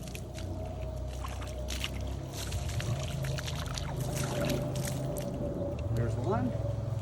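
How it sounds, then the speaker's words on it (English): Freshly harvested garden beets being washed in water, with continuous splashing and sloshing close by, while a person talks over it. "We're gonna wash them off and stick them over in this basket."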